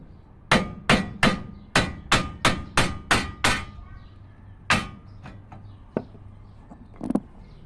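Steel hammer striking a Nissan Frontier/Pathfinder front wheel hub to knock out the bearing, about nine loud, evenly spaced metallic blows close up, then a few scattered lighter knocks.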